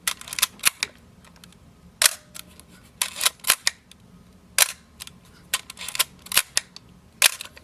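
Mechanical clicks and snaps from a Nikon F2 film camera, a series of sharp shutter releases and film-advance ratchets spaced irregularly, close up, with no talking.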